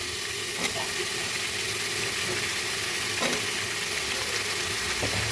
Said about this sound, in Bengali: এবার আমি দিয়ে দিচ্ছি সেদ্ধ করা ছোলাগুলো